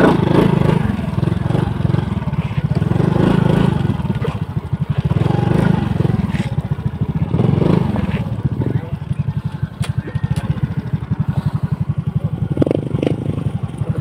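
Motorcycles ride along a farm trail in the countryside, with a steady, loud engine drone and rough clattering under the machines over the whole stretch. People talk intermittently over the engine noise.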